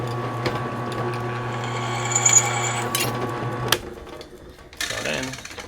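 A drill bores into a gold bar to take shavings, a steady whining motor hum for several seconds before it cuts off, followed by brief clatter while people talk nearby.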